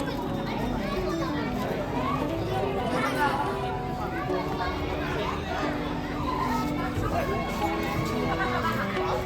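A dense crowd mills around Bagnath temple during a bhandara, with steady hubbub, overlapping chatter and children's voices filling the whole stretch.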